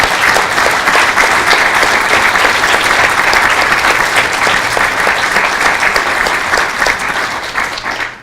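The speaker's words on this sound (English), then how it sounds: "Can we give them all a massive round of applause?" A large conference audience at an academic plenary session gives a loud, massive round of applause for the conveners, a thick steady roar of many hands that continues strongly before tapering off near the end.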